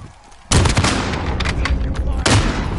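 A heavy gunshot blast from a Call of Duty Modern Warfare match, loud and close, with a sustained roar of gunfire and a second hit near the end.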